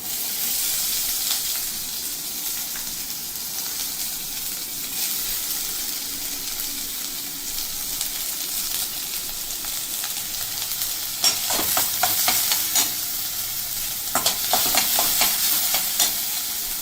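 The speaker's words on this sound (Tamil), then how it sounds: "நம்ம வந்து பீட்ரூட் போட்டுக்கு கடுகு சேர்த்துக்கலாம்." Mustard seeds and dried red chillies frying in hot oil in a South Indian home kitchen for a beetroot stir-fry, a soft steady sizzle with scattered sharp pops and crackles growing denser toward the end.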